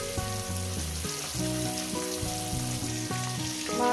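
Rohu fish pieces frying in a pan, a steady sizzle partly buried under louder melodic background music with clear repeating notes.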